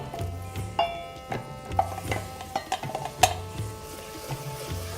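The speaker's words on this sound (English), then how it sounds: "So the onions have been cooking for around 10 minutes, and now we'll put our tomatoes in" Chopped tomatoes stirred into a pan of softened onions that have cooked about ten minutes, with a low sizzle and repeated clinks of a spoon against the pan at a steady rhythm.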